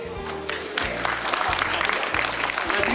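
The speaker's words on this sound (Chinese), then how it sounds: "让我们现在以最热烈的掌声欢迎我们今天的主持人" An audience claps at a school alumni banquet honouring a retiring teacher, welcoming the host. Moderately loud applause builds and carries on under a prominent voice or tonal sound.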